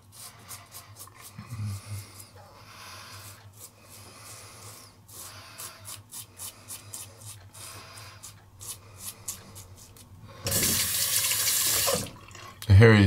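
A Harry's five-blade razor scrapes across the stubble on a neck in a series of short, soft, rasping strokes up close, followed by a burst of running tap water rinsing the blade.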